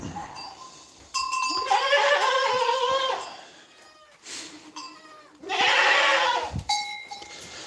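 Goats bleat loudly and close by in two long, wavering calls separated by a pause, with scattered shorter bleats and faint rustling between.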